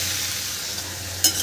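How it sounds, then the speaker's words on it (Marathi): Tandulja greens sautéing in a pan, a soft steady sizzle with a brief louder scrape near the end. "तर अशा तऱ्हेने मी ही भाजी छान"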